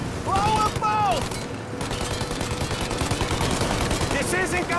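Mafia Definitive Edition gunfire at a plane's engines: continuous rapid automatic shooting with heavy booms, loud throughout, while voices shout over the barrage.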